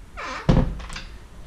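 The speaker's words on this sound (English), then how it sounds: "It has these sliding doors" An apartment's sliding door moves along its track with a single dull thunk midway, followed by a faint rolling rub, close up and with no talk.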